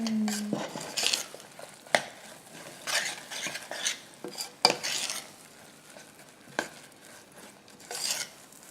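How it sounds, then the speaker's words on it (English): Oats stirred into a pot of vegan chocolate peanut butter mixture on a switched-off stove, with intermittent scraping strokes and spoon clinks against the pot, close and fairly quiet. "Just going to add the oats."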